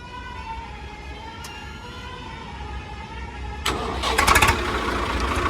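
A 2008 Swaraj 855 tractor in well-kept condition is started, with a steady engine drone running and then a louder rattling burst as it catches and revs.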